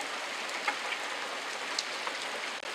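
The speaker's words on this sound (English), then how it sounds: "So this is the rain that I recorded with my phone." Rain recorded outside on a phone: a steady, fairly quiet hiss of falling rain with scattered distinct drops tapping nearby surfaces, no voices.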